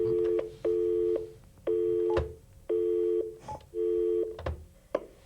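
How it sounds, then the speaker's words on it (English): Telephone line tones on a call-in during a broadcast discussion: four evenly spaced, sustained electronic tone bursts with clicks between them, heard alone without talk. "We have a phone call that we'd like to take."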